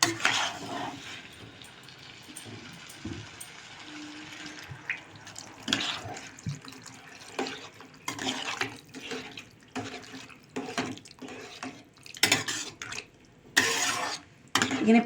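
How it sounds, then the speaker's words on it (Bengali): Water poured into pav bhaji masala in a pan and stirred, with wet splashes, scraping spoon strokes and clinks up close, while a voice talks intermittently over it. "পাওভাজির মশলাটাকে ভালো করে নাড়াচাড়া করে নিয়ে এটাকে এর মধ্যে পরিমাণ মতন জল দিয়ে দিতে হবে একটু"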